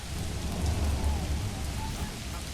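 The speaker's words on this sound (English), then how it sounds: "It's raining." Rain falling in the medieval city-builder game Manor Lords, a dense steady hiss of rainfall with low rumbling underneath, continuous and fairly loud.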